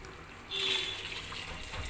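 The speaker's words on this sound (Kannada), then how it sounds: "ಇವಾಗ ನಾವು ಏನು ಮಾಡಬೇಕು ಅಂತ ಹೇಳಿದರೆ ನೀರನ್ನ ಹಾಕಬೇಕಾಗತ್ತೆ" Water pours steadily into a pot of rasam that has been boiling, a Malnad-style home recipe. A broad, close rushing splash starts about a quarter of the way in and continues to the end.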